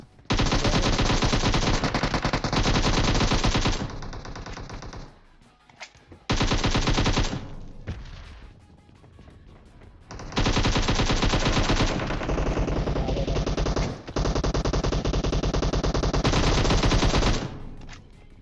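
Gunfire in the mobile battle royale game PUBG Mobile: loud, sustained automatic bursts with short gaps between them, several long volleys of rapid fire filling the scene with no talk.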